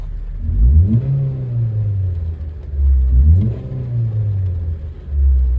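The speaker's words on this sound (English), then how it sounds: "I'll give it a quick rev so you can have a listen to this" A 2007 Ford Focus 1.8 Zetec engine revs up twice, each rev climbing sharply then easing back to a rumbling idle between.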